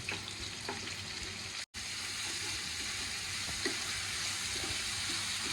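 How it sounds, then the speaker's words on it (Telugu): Onions and green chillies frying in hot oil for a village-style ridge gourd and moong dal curry: a dense, steady sizzle held close throughout, with one brief dropout to silence partway through. "నూనె వేడెక్కాక ముందుగా ఉల్లిపాయలు వేసుకోవాలి."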